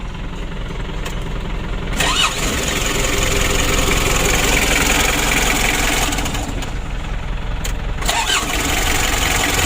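A rebuilt 2017 Mitsubishi L300 diesel engine cranks and starts up loudly, then settles into a steady, rough diesel idle with a brief cranking dip near the end.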